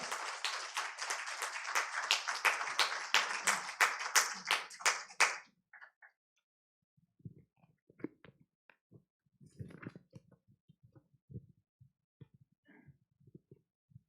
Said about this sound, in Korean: 우리 박수로 한번 모시도록 하겠습니다